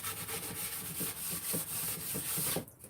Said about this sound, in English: you can take your Scotch-Brite pad, which I use the hell out of these for work. Just go back and sand over it